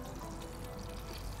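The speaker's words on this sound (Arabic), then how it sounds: "انا ايه مش عايزه ميه الطماطم، فهسيب اشيل الميه" Water drained off tomatoes in a kitchen, a soft continuous pouring and trickling splash, close and fairly quiet.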